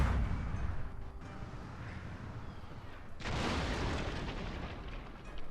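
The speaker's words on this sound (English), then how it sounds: "Go, cannons, go." Cannons firing in a Shogun 2 battle with the Ultimate Immersive Mod, a broad rumbling volley swelling then a second heavy burst of booms, loud and dense, with no speech.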